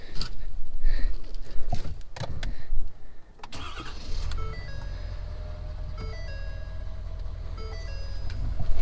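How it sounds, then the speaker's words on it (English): A Ford Super Duty pickup with the 6.7 engine cranks and fires, then settles into a steady, loud idle close by, with a rough, noisy start giving way to an even rumble. "jump in the truck, fire the truck up, check for leaks"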